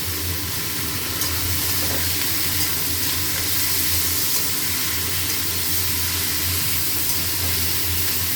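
Turmeric, salt, ground cumin, dried chilli, a little ginger and garlic fry in hot oil, giving a loud, continuous hiss and sizzle that stays even throughout without any talk.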